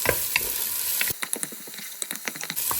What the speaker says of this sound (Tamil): நல்ல பெருஞ்சீரத்தோட கரிஞ்சீரத்தை சேர்த்து வச்சு வதக்கலாம்